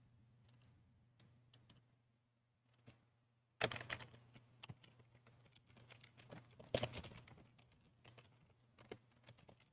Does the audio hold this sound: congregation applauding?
no